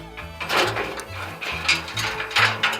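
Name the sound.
ratchet wrench removing bolts from haybine tine bar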